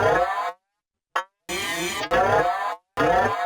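A synthesized cow moo played on a Pocket Operator synthesizer: a short harmonic tone, a brief blip, then two longer buzzy moo-like notes separated by gaps, loud and close with no talking.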